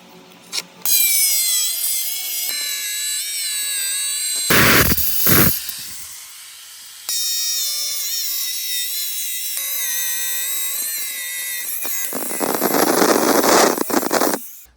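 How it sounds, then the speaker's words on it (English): Angle grinder cutting shower tile outdoors, a loud steady high whine that starts and stops several times, with brief harsh bursts and a rougher grinding stretch near the end. "let me go outside and show you how to make these cuts with your grinder"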